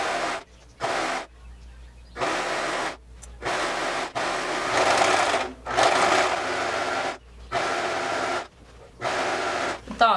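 A sewing machine stitches a skirt waistband in a series of short loud bursts of whirring, each run lasting about a second, separated by brief pauses.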